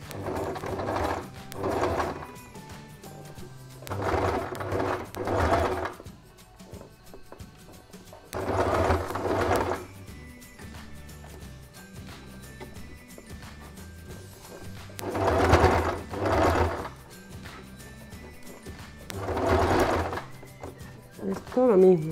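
A sewing machine stitching a fabric bowl cozy runs in several short bursts of rapid mechanical whirring and clatter, separated by pauses, with a voice talking in between.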